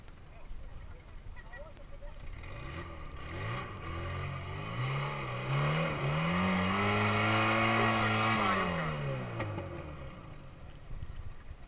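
A car engine at a Lada Niva gathering climbs through a long rev, pitch rising and falling as a tire spins without traction, moderately close, with people talking under it.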